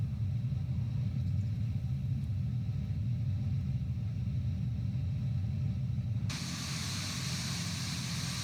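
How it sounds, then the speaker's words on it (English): An Airbus A350 in Microsoft Flight Simulator 2024 spools up its number 2 engine with a steady low rumble. A broad airy hiss joins suddenly near the end, and no one speaks. "Starting engine number 2."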